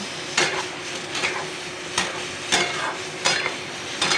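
Whole boiled potatoes are stirred into a sizzling onion-garlic masala for an egg curry with potato and pointed gourd, steady close frying hiss punctuated by regular spatula scrapes and knocks against the pan roughly every half second.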